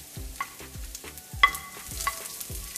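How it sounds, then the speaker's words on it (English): Garlic and ginger frying in hot oil with pepper and curry leaves for restaurant-style chicken 65, a steady sizzle broken by repeated scraping stirs of a utensil against the pan, with a few brighter metallic clinks. "we are gonna fry all these things in the oil"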